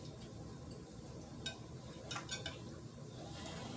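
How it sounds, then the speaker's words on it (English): Food is stirred and folded in a pan while cooking, giving a few soft, close scrapes and clinks over a quiet background hiss. "Let me stir again. Well, not really stir, but I guess I'm folding it"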